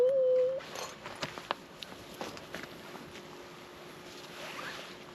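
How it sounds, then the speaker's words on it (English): An outdoor heat pump unit at a tiny off-grid cabin runs quietly in the distance, its compressor giving a faint steady hum as the fan turns, with soft scattered knocks over it. "We got the fan out here turning. The compressor's running. Fan's running."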